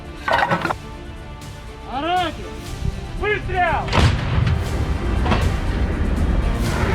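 Several heavy booms and blasts of missile and artillery-like fire, with crackling impacts, at a distance under a steady rumbling background, in a war zone in Russia's Kursk region.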